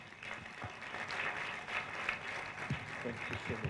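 An audience at a national integrity conference in Nigeria applauds with dense, continuous clapping that swells slightly, and voices mingle in the crowd noise.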